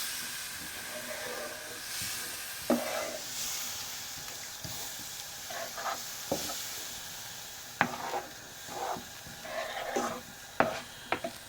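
Fried flour is stirred with room-temperature milk in a pan over a raised flame, producing a soft hiss with intermittent scraping and clinking strokes of the spoon, close and fairly quiet.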